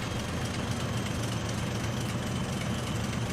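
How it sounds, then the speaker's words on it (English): Unrefined, old-fashioned diesel train engine idling and rumbling in Transport Fever 2, a steady low, dense drone that holds evenly throughout with no talk over it. "A proper old-fashioned and very unrefined diesel sound."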